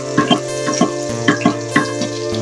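Sliced onion frying with garlic in a hot pan, a steady sizzle broken by several rhythmic scraping stirs, close and loud with no talking.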